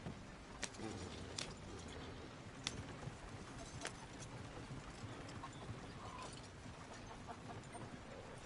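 Horse hooves clip-clopping in the video game Red Dead Redemption 2, a steady walking rhythm of soft, fairly faint hoof falls on a trail with occasional sharper clacks, no talk over it.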